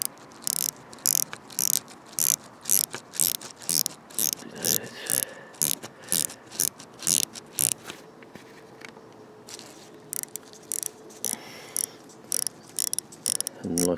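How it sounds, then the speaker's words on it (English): The stiff bezel of an MWC DepthDiver 1000 meter dive watch is turned, giving bursts of sharp ratcheting clicks in quick runs, close and distinct, with short pauses between turns. "It's got quite a good stiff bezel. There's no real give."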